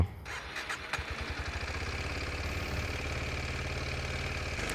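A Kawasaki Ninja 125 motorcycle fires up after a brief crank, then settles into a steady, close, throbbing single-cylinder idle that carries on with no talk over it.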